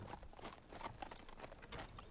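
Horse hooves clip-clopping on a ride in a western train-ambush game, a steady quiet patter of hoof beats over outdoor ambience with no talk.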